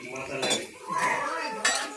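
A spoon works through besan gatte curry with onion paste in a pan, making a few sharp metallic clinks and scrapes in irregular bursts, close up, with no talking.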